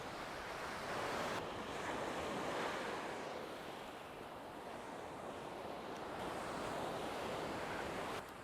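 Surf washes steadily onto an unspoilt, swimmable beach at Tangalle, Sri Lanka, a continuous broadband roar of breaking waves mixed with wind buffeting the microphone, with no voices present.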